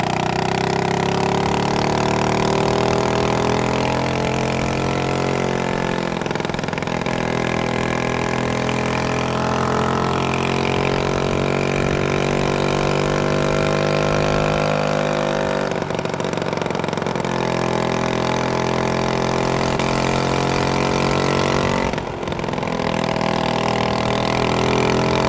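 A 1986 Honda Z50RD small motorcycle engine runs steadily close by for the whole stretch, a buzzy continuous drone with slight rises and dips in revs and no talking.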